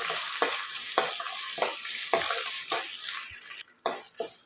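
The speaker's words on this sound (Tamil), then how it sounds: "இதுவும் இதோட சேர்த்து கொஞ்சம் வதக்கலாம்." Green chili, ginger and dried chili sauté in a hot pan for coconut rice, with a steady oil sizzle and about eight rhythmic spoon or spatula stirs scraping the pan, close and loud.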